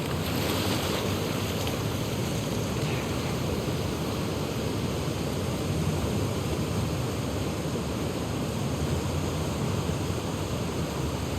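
Water waves wash steadily in The Last of Us Part II while Ellie swims toward the aquarium, a broad, continuous roar of surf and wind that fills the scene without pause.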